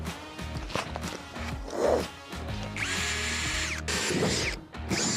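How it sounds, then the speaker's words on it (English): A power drill bores holes into the body panel of a Ford Transit Mk8 van, whining loudly and close in bursts with rising pitch as the bit works through the metal. "I start by drilling holes in the corners so I can get the blade in there."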